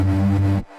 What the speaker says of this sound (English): The Trash 2 is giving all the distortion.